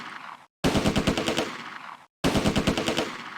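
A .30 cal machine gun in the Close Combat video game fires two rapid, sustained bursts separated by a brief silence, with loud, sharp, rhythmic reports.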